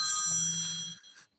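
A telephone-style ring trills steadily and fairly loud for about a second, layered over a low hum, then breaks off into near silence.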